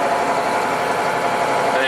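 A Case International 7120 Magnum tractor engine holds a loud, steady, close-up drone at raised throttle around 1,400 RPM, with no clear change in pitch.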